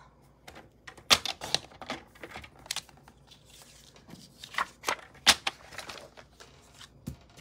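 A paper trimmer slicing 6x6 designer paper for Stampin' Up! card making, heard as a series of sharp irregular clicks, snaps and rustles, close and moderately loud with no speech.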